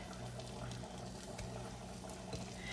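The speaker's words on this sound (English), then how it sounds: "Ooh, I'm hearing the sizzle now, yay." Continuous, dense crackling and spitting of meat patties frying in hot oil in a pan, close and fairly loud, with no talking.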